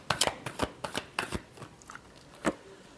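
Tarot cards being shuffled by hand, a series of crisp riffling bursts in quick succession, close and clear, followed by a pause and one last snap of the deck, with no talking.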